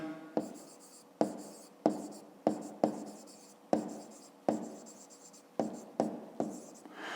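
Pen strokes on paper while a fifth-grade math exercise about a triangle's side is worked out by hand, about a dozen sharp scratchy strokes in an uneven rhythm, close and fairly quiet, with no talking.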